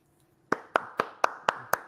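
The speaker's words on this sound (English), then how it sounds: "I'm clapping." Six sharp hand claps ring out close up in an even, steady rhythm after a brief quiet moment, with no voices over them.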